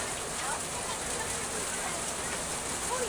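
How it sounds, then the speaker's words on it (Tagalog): Heavy rain pours down steadily outdoors as a dense, even hiss of drops that stays at the same loudness throughout, with no speech over it. "Ang lakas ng ulan."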